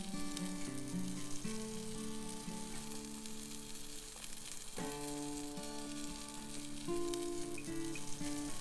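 Butter sizzling around a steelhead trout fillet in a cast iron skillet on a Weber kettle grill, a steady crackle under sustained musical tones.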